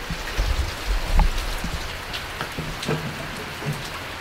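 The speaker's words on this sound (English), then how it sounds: "so it's raining" Steady rain pattering on a surface, with scattered droplet taps and hiss, moderately loud and continuous with no voices.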